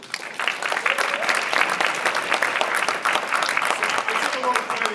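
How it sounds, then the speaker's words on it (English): Conference audience at an influencer marketing event applauds a guest, with steady, lively clapping throughout and voices audible in the mix. "hand of applause for David."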